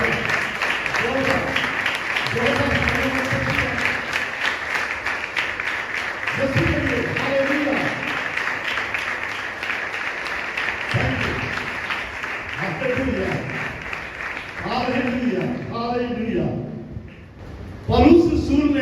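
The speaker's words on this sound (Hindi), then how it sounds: "यीशु के लिए तालियां और सच्ची से जोरदार।" Applause from a church congregation for Jesus, a steady wash of clapping running throughout while a preacher's voice continues over it.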